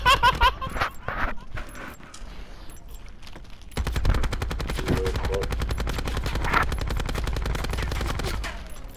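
Rapid automatic gunfire from Call of Duty Black Ops 4, dense bursts of shots that grow louder and continuous after the opening seconds, with voices talking over the shooting.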